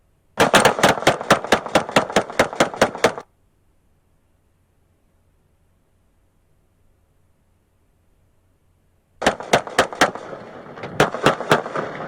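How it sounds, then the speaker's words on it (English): Police officers fire rapid volleys of gunshots, a dense burst of about a dozen sharp cracks, then silence, then another fast string of shots, loud and close with no talk. "Shots fired, shots fired."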